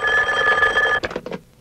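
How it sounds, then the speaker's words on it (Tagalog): A telephone bell rings loudly and continuously, then breaks into a few quick clattering bursts as it stops, with no voices over it. "Telepono!"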